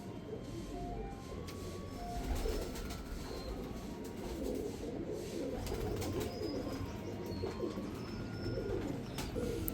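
Black Panther pigeons coo in a loft, soft low rolling calls repeating over a constant busy background hum, with several birds overlapping close by.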